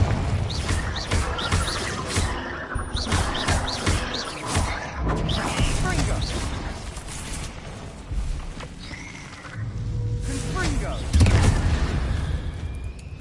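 Blasting spell explosions boom repeatedly in a Hogwarts video game, heavy thumps and bursts recurring across the scene amid shouted spell voices and other game sounds.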